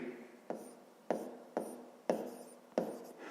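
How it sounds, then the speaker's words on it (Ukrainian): A pen scratches across paper during a fifth-grade math lesson, producing five distinct quiet strokes at an uneven rhythm, each starting sharply and trailing off, with no talking. "Ну що ж, записуємо тоді так"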